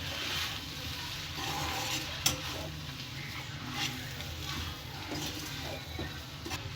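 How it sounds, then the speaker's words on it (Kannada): An egg and vegetable mixture for instant parata being stirred in a pan, soft scraping and light sizzling at low level with an occasional sharper tap of the utensil. "ಈಗ ಇದನ್ನ ಕ್ಲೀನಾಗಿ ಮಿಕ್ಸ್ ಮಾಡ್ಕೊಳ್ಳೋಣ."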